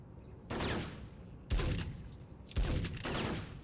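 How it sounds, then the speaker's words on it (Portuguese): Three heavy shotgun blasts in the video game Syphon Filter, with rolling tails, spaced about a second apart, loud and close with no talking. "Usar um pouco essa 12 aqui de 30 tiros."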